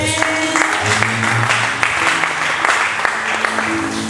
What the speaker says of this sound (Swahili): Hebu piga makofi.